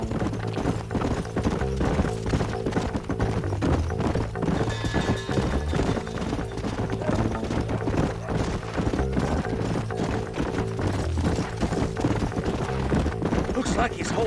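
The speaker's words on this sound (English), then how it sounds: "Let's hold up a minute and find a spot for our horses. Whoa there." Rapid, rhythmic clip-clop of horses' hooves in Red Dead Redemption, with several horses trotting together in a continuous, fairly loud patter, and a voice speaking over the hoofbeats.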